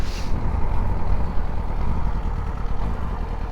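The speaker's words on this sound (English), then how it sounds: "we've been revving the piss out of this bike the past couple videos" An inline-engine motorcycle runs close by with a low, steady rumble, holding fairly even without distinct rev peaks.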